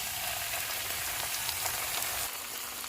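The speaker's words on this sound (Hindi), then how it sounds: "इसमें हम लहसुन डाल देंगे और लहसुन को हम 2 मिनट तक फ्राई करेंगे" Garlic sizzles in a hot pan after capsicum has cooked, a steady, dense crackle of frying that runs without pause and eases slightly near the end, with no voices over it.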